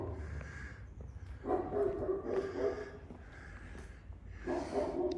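Dogs bark in a few drawn-out bursts at a moderate distance in the town of Vinchiaturo, Italy, over a low background rumble.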